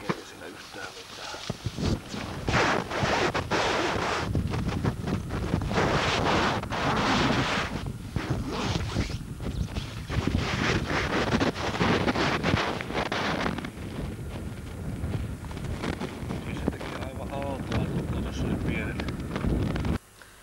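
Gusty wind in Norway buffets the microphone in loud, rumbling bursts, with rustling and movement sounds and occasional speech mixed in.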